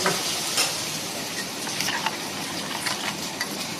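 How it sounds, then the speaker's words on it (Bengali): Thecha chicken frying in a pan as it is stirred, a steady close sizzle with scattered scraping and clinking from the spoon, no talking. "এটা একটু নাড়িয়ে দাও।"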